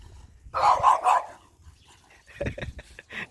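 A dog gives a few loud, close barks in a short burst, then pauses and follows with weaker yips and whimpers, heard in a quiet setting at a Thai home.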